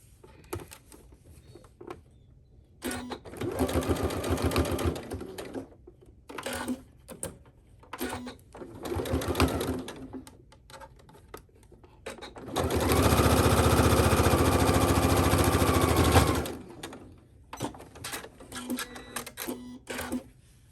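Home sewing machine basting the raw edges of a wrap skirt, with several short bursts of steady whirring stitching and a longer continuous run near the end, pausing in between.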